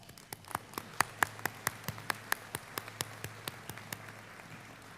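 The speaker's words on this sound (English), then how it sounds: "let's give everyone a warm round of applause" Clapping at a 2017 convocation, a run of sharp, evenly spaced claps that come fast and steady for several seconds and then thin out, clear over a quiet hall.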